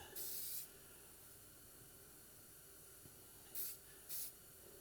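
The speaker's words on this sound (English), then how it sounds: "Spraying a little blue dicum." Three short hissing bursts from an aerosol can of blue layout dye sprayed in the cold, one longer at the start and two quick ones later, quiet surroundings in between.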